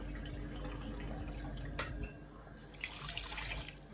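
Water poured from a cup into a pan to make sugar syrup for gulab jamun, a steady trickling splash with a brief louder burst midway, close by and alone.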